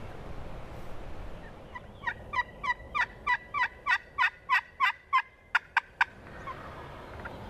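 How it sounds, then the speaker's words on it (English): A wild turkey gobbler gobbles from a distance outdoors, a rapid rattling run of about a dozen clipped bursts over a faint breezy background, with no talking. "Ooh, that's a big gobbler."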